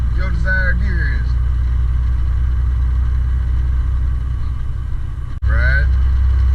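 A loaded semi truck's engine rumbles steadily from inside the cab during float shifting, a constant low drone with a brief dip near the end, while someone speaks over it.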